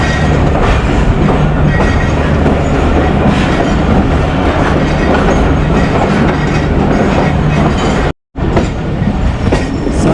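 The 45UP Pakistan Express running on the main line near Khanewal in Pakistan, a loud, close, continuous rumble of wheels on rails with rhythmic clickety-clack and a momentary cut near the end.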